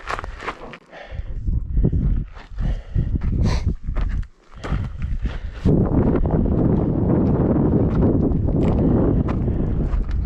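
Strong wind buffets the microphone on a High Sierra mountain summit at Leavitt Peak, with gusty low rumbling and scuffing in the first half, then a steady loud roar of wind.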